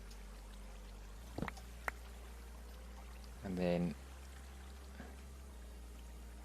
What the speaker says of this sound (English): we want to have the water flush all that out.